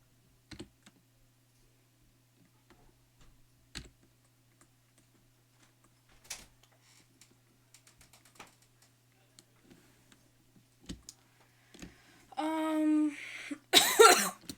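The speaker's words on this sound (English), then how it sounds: "Still coughing." Two harsh coughs burst out near the end after a stretch of quiet clicks and light tapping, loud and close.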